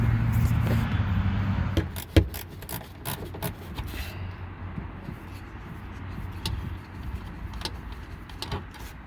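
A Nissan Versa tail light assembly being pried and pulled out of the car body, giving close scraping and rubbing plastic clicks with a sharp snap near two seconds, then lighter intermittent clacks and handling noise.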